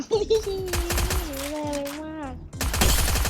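Automatic gunfire in the mobile shooter game Free Fire, a rapid rattling burst heard under someone talking throughout, close and fairly loud.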